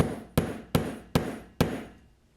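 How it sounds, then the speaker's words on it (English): Four sharp, evenly spaced hammer strikes land on a grommet tool to set a grommet in a towel beach bag, each blow ringing briefly before fading into quiet. "You're gonna get your grommet tool, put it on top, and with the hammer,"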